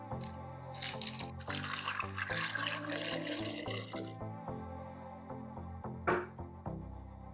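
Water runs from a tap into a cooking pan holding unpeeled potatoes in a home kitchen, a steady close splashing and trickling that fills for several seconds, then a few drips and clanks as it stops; no talking.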